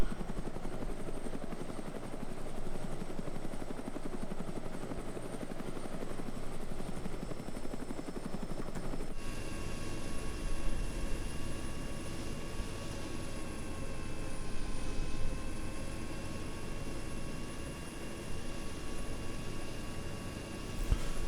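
Russian Mi-8 helicopter in the Arma 3 game on the Chernarus Redux map, a steady loud rotor and turbine drone that shifts tone partway through and continues unbroken, with no voices.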